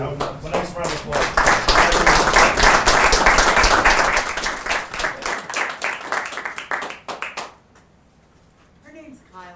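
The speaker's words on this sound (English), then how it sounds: "one nice round of applause" A room at a town select board meeting breaks into a round of applause, dense clapping lasting several seconds before thinning out and stopping, with a voice speaking afterward.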